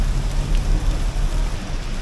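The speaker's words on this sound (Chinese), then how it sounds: "像芭提雅的话这样的雨估摸着半小时就结束了" A tropical rain shower in Pattaya, Thailand pours down in a dense, constant hiss of drops close by, with a low rumble underneath and no voices.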